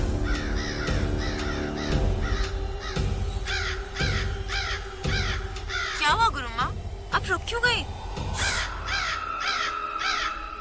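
Black crows caw repeatedly in a loud, uneven series of harsh calls, some overlapping, as a voice speaks briefly among them.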